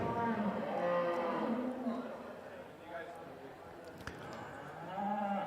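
Canadian-bred Angus cattle at a junior livestock show in Stettler, Alberta, low in drawn-out moos. Several calls rise and fall over a quiet, echoing arena background.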